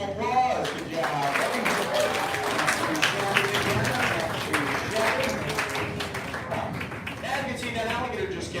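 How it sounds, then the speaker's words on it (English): Applause from an outdoor crowd at an alligator show, scattered clapping that runs under frequent talking and shouts from people nearby. "Give that alligator some applause."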